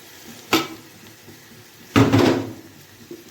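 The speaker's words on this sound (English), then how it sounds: "Let's give them all a stir." Peas and spring onion stirred in a pan, heard as two short bursts of clattering and scraping, one brief and one longer, with quiet pauses between and no talk.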